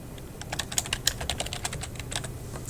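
Typing on a computer keyboard, with a quick irregular run of close, crisp key clicks, some clustered in bursts, over a quiet background.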